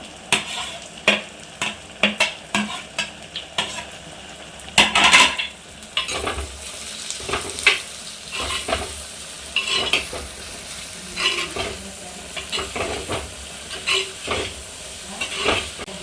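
Sliced onions fry in a pan for a prawn roast while a spoon stirs them: a steady hiss of sizzling oil broken by repeated close scraping and clinking strokes, with no voices.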